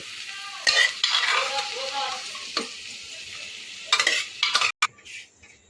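Boiled dal is stirred into an egg tadka in a pan, producing soft wet sizzling and squelching with repeated sharp clanks of a metal spoon against the pan, irregular and close.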